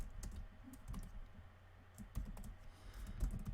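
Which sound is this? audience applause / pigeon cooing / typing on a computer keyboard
typing on a computer keyboard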